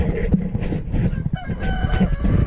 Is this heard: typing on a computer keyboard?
no